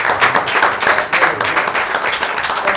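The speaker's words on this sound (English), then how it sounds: "So I'd appreciate a round of applause for them." A crowd applauds with dense, steady clapping that stays loud and even throughout.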